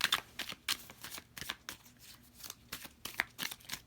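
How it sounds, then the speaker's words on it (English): Tarot cards shuffled by hand at close range: a quiet run of quick riffling flicks and soft slaps repeating in an uneven rhythm, with no voices. "I almost had a bunch of cards try to come out again."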